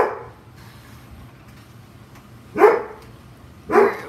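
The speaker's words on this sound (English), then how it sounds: "the dog's just like to bark" A dog at home gives two sharp, fairly loud barks spaced about a second apart, standing out against a quiet room background.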